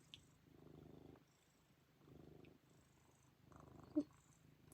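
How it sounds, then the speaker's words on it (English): A cat purrs loudly with a deep rumble, close and steady, rising in three rhythmic swells with brief gaps between them in an otherwise quiet room. "He has a very loud and rumbly purr."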